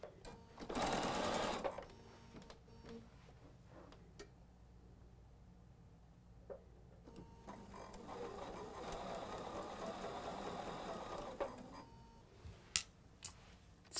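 A sewing machine stitches quilt block fabric for a pillow, with a short, quick burst of running, then a quiet pause and a longer, softer run, ending in faint clicks and taps.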